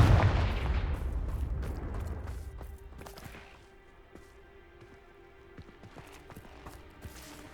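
A Confringo spell explosion in Hogwarts Legacy gives a loud rumbling blast that fades over a couple of seconds. Scattered crackling debris and small ticks follow in a quieter tail.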